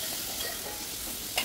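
Ivy gourd sautéing in oil with turmeric and salt gives a short, steady soft sizzle, ending in a brief scrape or clink near the close.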